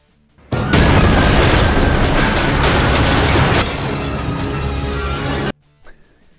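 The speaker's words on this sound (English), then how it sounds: "The TV explodes and then blows the desk up or back" A television explodes in a 1996 movie, a loud, sudden blast bursting into a roaring crash of debris that rumbles for several seconds before cutting off abruptly.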